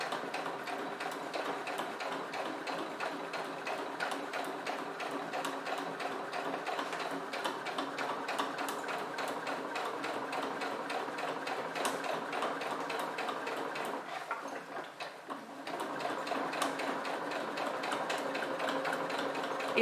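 Close, continuous sewing machine hum and rapid needle ticking as it topstitches fabric for a multi-use pouch at a 3.5 stitch length, with a brief slowdown near the end before resuming.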